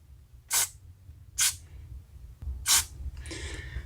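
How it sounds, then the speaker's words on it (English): Three short bursts of carburetor cleaner sprayed into the small holes of a lawn mower carburetor, close and sharp, each a quick hissing puff with gaps between, followed by a softer, longer trailing spray. "just spray some carb spray in each one of these little holes"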